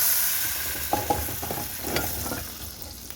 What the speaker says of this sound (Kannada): ನೋಡಿ ಒಗ್ಗರಣೆ ಹಾಕ್ತಾಯಿದ್ದೀನಿ ಇವಾಗ